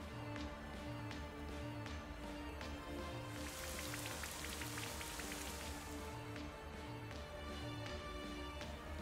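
Rain Dance in the video game Pokemon Shield brings a steady wash of pattering rain over a looping battle music bed, with a louder burst of rainfall in the middle.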